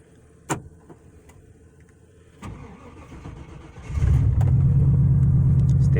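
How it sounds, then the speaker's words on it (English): A 1995 Chevrolet Silverado truck engine cranks with a sharp starter burst, then catches and settles into a loud, steady low idle close by. "what I'm gonna do now, I'm just gonna start the truck"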